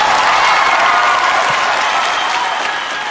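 Loud, continuous applause from a live audience for a singer at a singing competition show, a dense wash of clapping that holds steady for about three seconds and eases slightly at the end.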